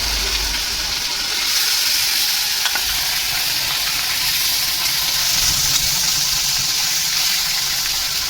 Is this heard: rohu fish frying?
yes